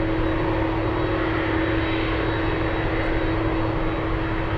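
A Cessna 441 Conquest small plane takes off at Anchorage airport with a steady, continuous engine drone and a constant high whine, loud and unbroken throughout.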